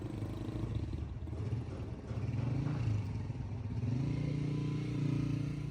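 A motorcycle engine drones steadily nearby, its pitch rising and falling slightly as it rides along.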